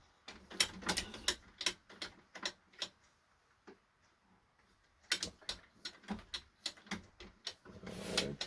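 A hand-crank Singer 66 sewing machine stitching fabric produces close, dry mechanical ticks and clacks in quick irregular bursts, separated by a quiet pause midway.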